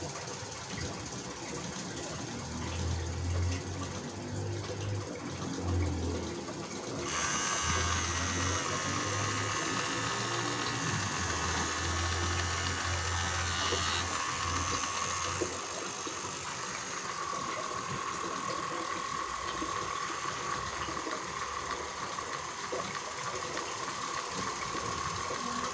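Homemade 12V DC dynamo with a gearbox running under power, a continuous mechanical whine and hum that steps up in pitch and intensity partway through and holds steadily.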